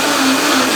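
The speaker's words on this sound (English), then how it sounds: "Over we go to the blender." A blender whirs loudly and steadily at full speed, liquidizing a bright turmeric-colored soup broth in one continuous close-up burst.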